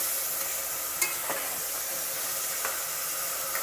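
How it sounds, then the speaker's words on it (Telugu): Tomato pieces frying in oil in a pan while being stirred, a steady close sizzle with a few soft scrapes and clinks of the spoon. "టమాటా ముక్కలు కొంచెం ఆయిల్లో కూడా మగ్గాలి."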